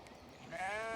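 Sheep bleating on a pasture, a single wavering bleat that starts halfway through and holds to the end, fairly close over a soft outdoor background.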